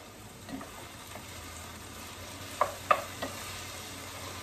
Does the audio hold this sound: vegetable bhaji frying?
yes